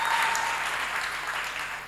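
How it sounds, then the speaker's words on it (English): During a Sunday church service, the congregation breaks into warm, dense applause that fills the room evenly and fades slightly toward the end. "Let us clap for her."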